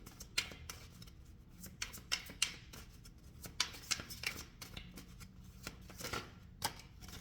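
Tarot cards being shuffled by hand, close and quiet, with repeated soft riffling slaps and flicks in an uneven rhythm and no talking.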